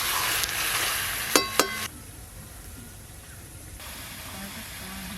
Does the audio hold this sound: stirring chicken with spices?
yes